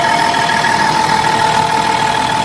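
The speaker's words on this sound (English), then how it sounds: "So this is the tractor." A tractor engine idles steadily at close range, a continuous even rumble with a faint knocking pulse and a steady mid-pitched hum, no voices over it.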